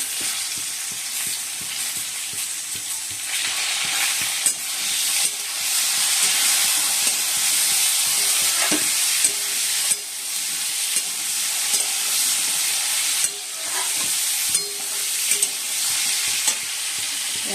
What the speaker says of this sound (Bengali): টমেটো কুচিগুলো দিয়ে দিচ্ছি